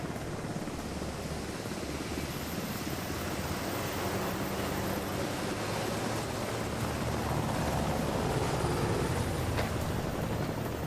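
In the video game House of Ashes, a helicopter takes off with a steady, loud rotor roar and broad rushing noise, continuous and rising slightly toward the end.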